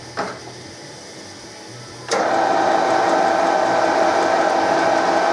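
A lathe facing a car part at about 200 RPM, fed first by hand and then by the automatic feed: a close click, then a steady, loud whirring hum that runs on evenly once the cut begins.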